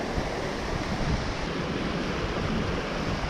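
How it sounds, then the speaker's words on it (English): Large waves break and surge continuously along the rocky Lake Superior shoreline during a fall fishing outing, a steady loud wash of surf with wind buffeting the microphone throughout. "Some big old waves right there."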